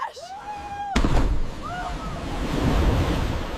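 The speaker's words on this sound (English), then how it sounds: "Did you see that splash?" A sudden heavy splash hits the water, followed by churning waves and wind rumble, with a couple of short voiced exclamations over it.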